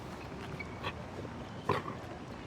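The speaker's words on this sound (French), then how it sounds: "Ça c'est un gentil toutou ça." A dog in the video game Detroit: Become Human whimpers and yips in short bursts over a steady, busy background hum, with a couple of brief louder yelps standing out.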